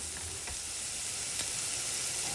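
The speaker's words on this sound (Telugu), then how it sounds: "ఇప్పుడు ఉల్లిపాయ ముక్క మెత్తబడి కొంచెం వేగే వరకు వేయించాలి." Onion pieces and sugar frying in a pan, an even, fairly close sizzle running throughout with a couple of faint stirring clicks, no voices.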